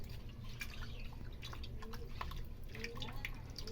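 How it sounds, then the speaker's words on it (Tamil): Guava leaves being washed by hand in a bowl of water give faint drips and small splashes, quiet and intermittent against a low background. "இப்போது இதே இலை எடுத்து நான் இன்னொரு தண்ணியிலே கழுவிட்டு"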